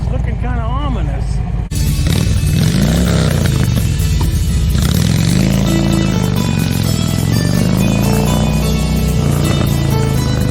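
A Harley motorcycle engine rumbling loudly and steadily while riding, with rising and falling revs and wind noise throughout.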